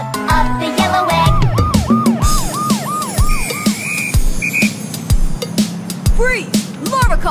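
A toy police car siren wails in a rising and falling electronic pattern, loud and close, over playful music and effects from a children's cartoon.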